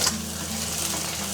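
Shrimp and dried scallops stir-frying in a hot iron wok with rendered pork fat and aromatics, a steady close sizzle with faint scraping and stirring throughout.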